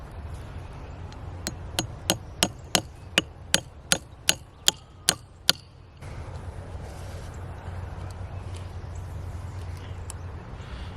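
Nails hammered in to fasten wire to the tops of a wooden trellis for muscadine vines: about a dozen sharp, evenly spaced metal-on-wood strikes close by, then steady outdoor ambience with no further blows.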